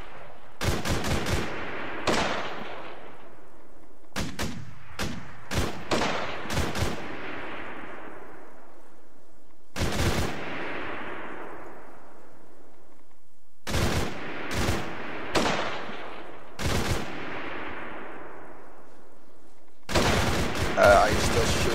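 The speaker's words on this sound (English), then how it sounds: "Are you still shooting at enemies you can see, DJ, or?" Gunfire in the video game ARMA 3 during a co-op match: repeated loud sharp shots in bursts and single cracks, each trailing off in a long echoing decay, with pauses between volleys.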